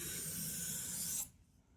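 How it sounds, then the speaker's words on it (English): A single rough rasping stroke comes from a straight razor being honed on a sharpening stone, close and faint, lasting about a second before cutting off to near silence. "this feels really rough on my stone, so it might be stainless"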